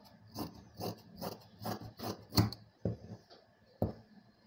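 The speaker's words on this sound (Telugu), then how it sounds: "ఇప్పుడు మెడభాగం కోసం క్రాస్ కటింగే కాబట్టి మనం క్రాస్గా కట్ చేసుకోవాల్సి ఉంటుంది" Scissors cross-cutting blouse fabric for a neckline piece, a series of soft, evenly spaced rasping snips, about eight cuts, close and fairly quiet with no talking.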